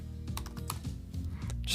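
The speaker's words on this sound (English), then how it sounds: "Start typing their name and select it when it pops up" Fingers type quickly on a computer keyboard, producing a close, steady patter of key clicks while a name is entered into a volunteer sign-up form.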